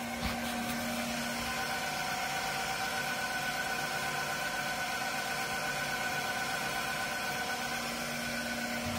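Haas TM1 milling machine spindle turning at 1,000 RPM, a steady whiny hum with constant tonal lines and a faint hiss, even and unbroken throughout.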